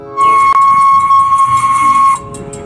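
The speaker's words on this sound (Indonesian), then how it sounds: "Kereta Thomas, teman-teman." A toy Thomas train sounds a steady, loud steam whistle tone for about two seconds, alone with no talk, then cuts off to quiet.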